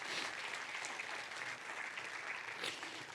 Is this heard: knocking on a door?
no